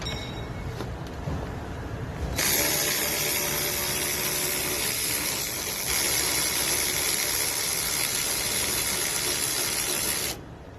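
A broken ratchet spins freely during removal of the front bumper on a 2017 Infiniti Q60, a steady loud whirring hiss that runs unbroken for about eight seconds and then stops abruptly.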